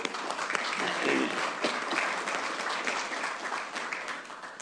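Applause from the audience at a city council meeting, a sustained round of clapping lasting several seconds, steady and fairly loud before tapering slightly.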